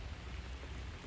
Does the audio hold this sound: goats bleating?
no